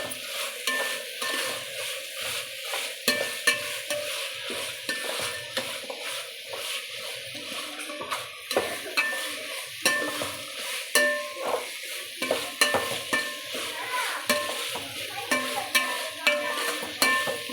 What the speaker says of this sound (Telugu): ఇలా పచ్చి వాసన పోయేంత వరకు వేయించుకోవాలి.